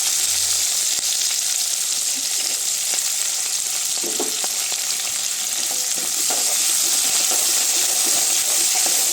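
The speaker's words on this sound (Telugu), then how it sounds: "ఇంకెళ్ళి పచ్చిమిరకాయలు వేస్తున్నానండి. బాగా వేగాలండి." Curry leaves and green chillies fry in a pan with a constant bright sizzle and hiss, plus a few soft stirring scrapes midway, close and steady throughout.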